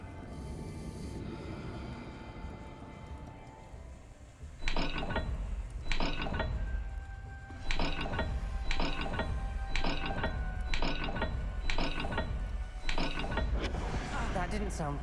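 Dial mechanism in Hogwarts Legacy turning with repeated sharp ratcheting clicks and gear clunks, in spaced bursts over a low ambient rumble, fairly close and clear.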